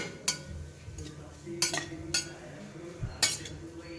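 Grated coconut being roasted and stirred in ghee in a pan, with a soft faint sizzle under several sharp clinks and scrapes of a spoon against the metal.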